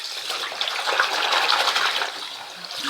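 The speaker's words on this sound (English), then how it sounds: "So I'm just rinsing the soap out. That's coming clean. Nice and clear water coming out of that" Running water pours steadily as soap is rinsed out of a hat, a continuous close splashing gush with no talking.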